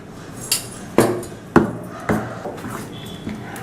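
A spoon knocks against a bowl while dosa batter of mixed flours and curd is stirred, giving about four separate clinks and taps, close and fairly loud, with quieter scraping between them.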